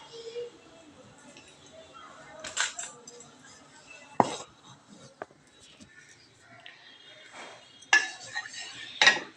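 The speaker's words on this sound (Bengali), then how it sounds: "তো রান্না করবার জন্য আমি কুকারে তেল দিয়ে দিলাম।" Pots and utensils clink sharply and sporadically as oil goes into a pressure cooker in a home kitchen, with scattered metallic knocks and quiet background sounds.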